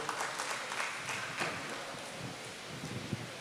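Teenagers at a youth conference quiz clap for a correct answer, a soft, fairly distant patter of many hands that thins out over a few seconds.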